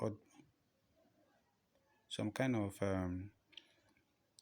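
Computer mouse clicks, a few sharp isolated taps near the start and end, with a person talking in the middle.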